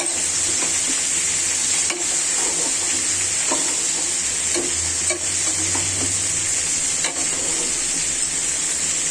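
Spice paste fries and is stirred in a pan for a taro and black gram dal dish, making a steady, close sizzle with occasional scrapes and taps throughout.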